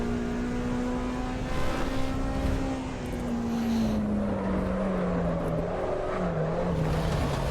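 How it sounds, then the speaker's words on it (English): A race car in Assetto Corsa Evo downshifting from fourth to second gear: a loud, steady engine drone whose pitch slides and wavers, with a brief dip near the end, alone without talk. "I really shouldn't be downshifting from 4th to 2nd."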